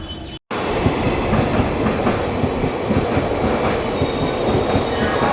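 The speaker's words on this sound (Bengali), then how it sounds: "দেখা যাক ট্রেনটা বললো তো আসবে" A crowded commuter train rolls into a station near Kolkata's Burrabazar, its loud, steady rumble of wheels and rail clatter filling the whole stretch after a brief dropout at the start.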